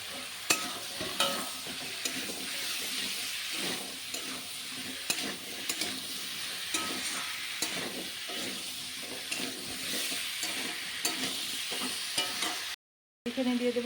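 Chopped bottle gourd frying in a pan with turmeric and salt, giving a steady, close sizzle with stirring scrapes throughout and a brief dropout near the end.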